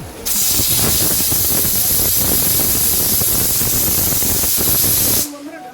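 A pressure cooker boiling dal lets off its whistle, a loud, sustained hissing jet of steam close by for about five seconds before cutting off abruptly.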